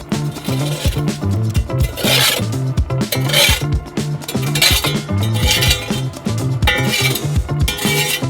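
Charcoal pieces are set along the sides of a hot oven, a close scraping and rasping of coals with metallic clinks and rubbing that runs throughout.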